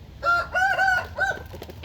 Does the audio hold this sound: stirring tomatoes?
no